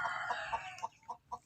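A chicken sick with ngorok, a snoring respiratory illness, makes a run of short, close, raspy clucking calls, several in quick succession with brief gaps, each fading at the end.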